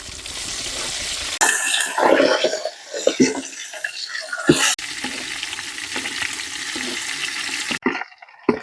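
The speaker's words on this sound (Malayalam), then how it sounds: "ചെറുമീൻ ഇച്ചിരി വലുതാണ്, അതുകൊണ്ട് എണ്ണയൊക്കെ കോരി ഒഴിച്ചാണ് നമ്മൾ ഫ്രൈ ചെയ്യുവാണ്" Snakehead fish fry in hot oil that is ladled over them, giving a loud, continuous close-up sizzle broken by brief clatters of utensils.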